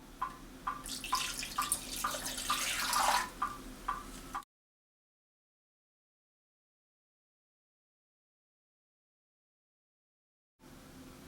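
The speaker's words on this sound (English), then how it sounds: "Now add 6 cups of cold water." Cold water poured from a tap into a pot holding raw chicken for Hainanese chicken rice, a close, bubbling splash with rhythmic gulps lasting about four seconds before everything falls silent.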